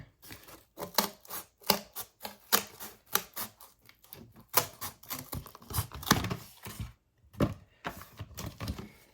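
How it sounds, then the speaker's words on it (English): Scissors cutting through cardboard along a marked line, a rapid series of sharp snipping clicks in uneven rhythm, close and fairly loud with no talk. "I'm just going to cut this where I marked it."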